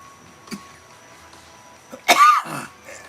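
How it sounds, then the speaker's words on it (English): A single sharp cough rings out close by, with a fainter throat sound just before it, against a quiet room. "After I cough, I'll tell you."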